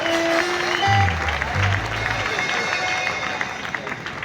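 A church congregation applauds and cheers for the Lord, dense clapping and crowd noise filling the room with sustained voices and a low tone underneath.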